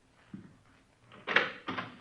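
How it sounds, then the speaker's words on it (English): A door opened in a 1950s police radio drama: a soft thump, then two louder clattering latch-and-hinge sounds close by, with no voices over them. "Open the door."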